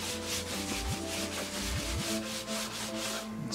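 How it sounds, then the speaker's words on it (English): Soft, steady rubbing against wood as wet stain is wiped off a wooden Cellotar F-style instrument body, a continuous close cloth-on-wood swish with a few faint low thumps. "So I'm going to try to just kind of rub it down"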